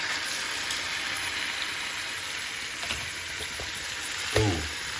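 Food fries in about 25 grams of butter in a pan, giving a constant close sizzling hiss, with a few light clicks and a louder clatter near the end.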